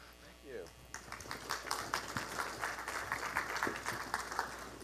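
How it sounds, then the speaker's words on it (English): Audience applause fills a conference general session hall, a broad steady wash of many hands clapping that swells and holds for several seconds at moderate distance, with no one speaking over it. "Applause before I even said a word."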